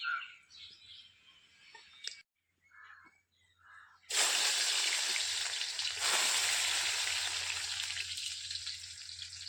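Quiet clinks and a pause, then a sudden loud burst of spices sizzling in two spoons of hot oil, tempering for chicken rassa, that keeps crackling and hissing steadily to the end.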